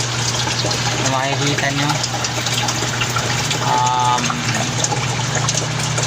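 Continuous rushing and gurgling water in a DIY aquarium sump filter with a steady pump hum, while a person speaks briefly over it.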